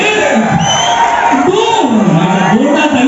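Students in a packed university seminar hall at LPU cheer and whoop loudly as a voice shouts over the sustained crowd noise.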